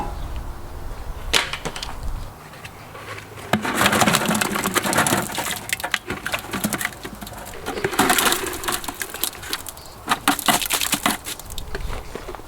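Lumpy lime mortar is worked through a screen in repeated bursts of gritty scraping and rattling, close up and fairly loud, with short pauses between passes and no talk.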